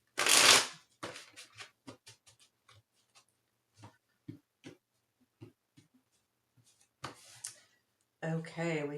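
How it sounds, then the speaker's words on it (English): A loud riffle of a tarot deck being shuffled, then scattered soft card taps and slaps, another shuffle burst, and a brief voice at the end. "One more shuffle. I feel like it needs one more shuffle."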